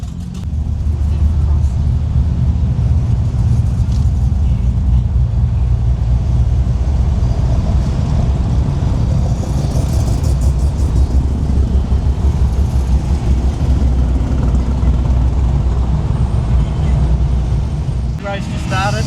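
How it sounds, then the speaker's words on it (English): Rows of cars idle at Summernats, lined up for burnouts, giving a loud, steady, close engine rumble with a deep low-end drone that holds throughout, heard from inside a vehicle with voices mixed in. "All the cars lined up for the burnouts."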